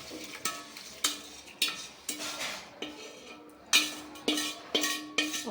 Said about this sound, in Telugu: ఈ తాళింపు అంతా ఇందులో వేసి కలుపుతుంది